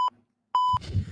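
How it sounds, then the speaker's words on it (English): A steady electronic censor beep sounds twice: a very short tone, a brief silence, then a longer tone. Faint low mumbling follows. "Beep it."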